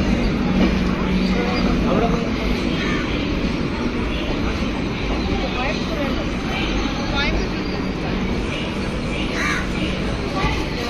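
Train coaches roll past at Chengannur railway station platform, a continuous loud rumble with clattering wheels, while crows caw and people talk in the background throughout.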